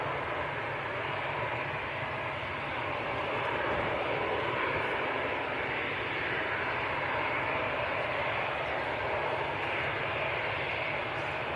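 An EasyJet Airbus A320 departing Manchester Airport for Athens, a broad continuous jet engine roar heard from a distance, holding steady and swelling slightly midway, with no speech.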